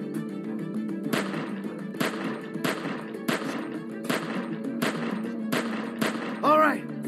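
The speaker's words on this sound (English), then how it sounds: "Just shoot at the window and keep that fucker's head down till I get where I'm going." Repeated gunfire in The Walking Dead: 400 Days video game, shots aimed at a window, about seven evenly spaced loud reports over a steady background drone, with a brief rising whine near the end.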